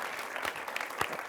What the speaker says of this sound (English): Yeah, give them applause.